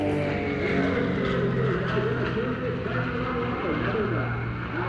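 Pitts Special S2B aerobatic biplane with propeller engine droning steadily and loudly throughout, a continuous buzzing tone with shifting pitch as it maneuvers, with talk over the top.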